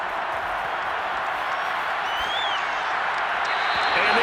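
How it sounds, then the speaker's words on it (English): Stadium crowd at an NFL football game between the Giants and Patriots, a broad steady roar of applause and cheering that holds throughout and swells slightly toward the end. "We're going to give out a little applause on that play"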